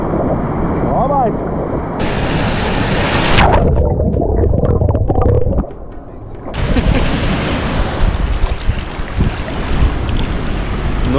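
Ocean waves break and surge along a Sri Lankan shore, a loud rushing roar with wind buffeting the microphone, briefly dropping away in the middle before crashing back in.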